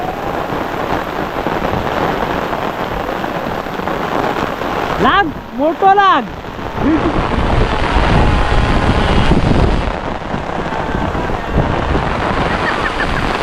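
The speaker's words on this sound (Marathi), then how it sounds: "तर मंडळी अशा प्रकारे पाऊस जोरदार इलो" Heavy monsoon rain pours steadily in a Konkan farming village, a dense broadband roar running throughout, with a voice calling out briefly in the middle.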